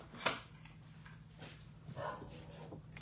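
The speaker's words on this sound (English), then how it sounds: "he's barking out there now" A dog barks once, faint and distant, against a low steady hum, followed by a couple of softer muffled sounds.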